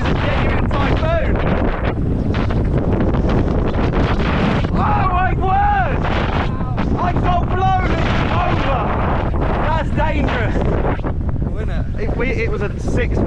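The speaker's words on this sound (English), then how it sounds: "So windy. I know I say that a lot, but this is a genuine typhoon." Strong, roaring typhoon wind in Taiwan buffets the microphone nonstop, a loud rushing gusty noise throughout, with a voice speaking over it in places.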